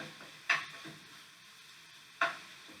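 Ground turkey cooks in a pan with a low, steady sizzle. Two sharp scrapes from a utensil breaking up the meat stand out clearly against the quiet frying.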